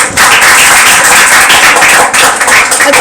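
A church congregation at prayer time applauding, a dense, loud, continuous wash of many hands clapping together, steady throughout with no voices heard over it.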